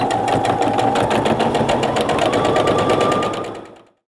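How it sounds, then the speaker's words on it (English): A sewing machine runs steadily, stitching a French seam on a cotton pillowcase, its fast even whir and needle clatter close and loud for several seconds before stopping abruptly. "I'm going to go ahead and sew my other one before I do that"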